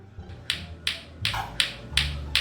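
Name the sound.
lato-lato clacker toy clacking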